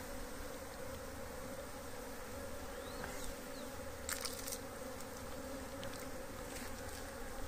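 Italian honey bees hum and buzz constantly through an outdoor honey harvest, a dense swarm drone with individual bees whizzing closer now and then.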